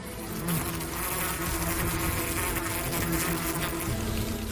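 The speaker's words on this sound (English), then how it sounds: "Clusters of bees mob the hornet and block the breathing holes on her abdomen." A dense, continuous buzzing of many honeybees mobbing a hornet, loud and close, a thick droning hum that never lets up.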